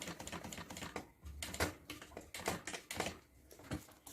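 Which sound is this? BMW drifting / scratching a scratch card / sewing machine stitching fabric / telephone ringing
sewing machine stitching fabric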